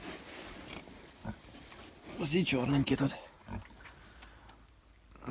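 Black Vietnamese pot-bellied and Hungarian Mangalica pigs in a farm pen grunt and let out a brief burst of squealing oinks, close by, while a person talks nearby.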